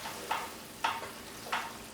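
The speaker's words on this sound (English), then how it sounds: "Get your peas stirred in there." Peas being stirred into a thick chicken curry pie filling in a pan, three separate scraping, squelching strokes spaced about half a second apart, close and fairly quiet.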